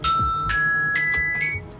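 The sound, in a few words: alarm going off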